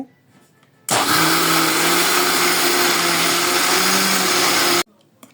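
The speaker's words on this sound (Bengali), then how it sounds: "দেখেন যে চালটা আমি এখন ব্লেন্ডারে ব্লেন্ড করে নেব" A kitchen blender grinds soaked rice with water in one loud, steady whirring burst of about four seconds, motor droning evenly before cutting off abruptly into near silence.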